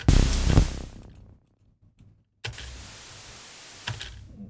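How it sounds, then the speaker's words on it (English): White noise from a synthesizer's noise oscillator in Ableton, used for a techno patch: a loud broadband hiss that fades out, a brief gap of near silence, then a steady sustained hiss that swells again near the end. "So just white noise basically"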